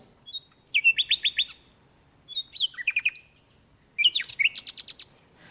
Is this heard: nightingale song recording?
yes